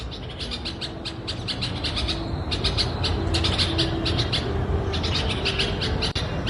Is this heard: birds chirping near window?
yes